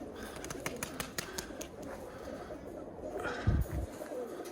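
Birmingham Roller pigeons coo softly inside a flying cage, low repeated calls over a steady background with occasional clicks and a brief louder bump near the end.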